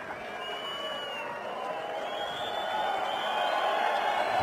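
A bullring crowd at a Béziers corrida applauds and cheers for rider Lea Vicens, a broad, distant wash of clapping and voices that builds gradually, with a commentator talking over it.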